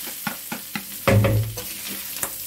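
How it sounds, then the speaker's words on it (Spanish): Rice sautéing in a paella pan with ibérico secreto, mushrooms and tender garlic, soft scrapes and taps of stirring with a short louder burst of sizzling in the middle, close by. "Ahora vamos a sofreír el arroz"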